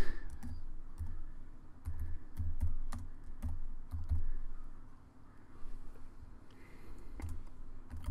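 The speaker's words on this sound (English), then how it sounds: "I can click inside my little box here, and I can type in" Typing on a computer keyboard while entering lettering in embroidery software: quiet, irregular bursts of key clicks with brief pauses, close by and alone.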